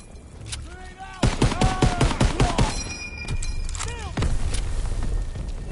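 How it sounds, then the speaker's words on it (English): Artillery and gunfire hit a beach during a World War II assault in Call of Duty WWII, a sharp volley of blasts and rapid shots, with shouted voices and whistling sounds in the chaos. "Artillery's hitting the beach!"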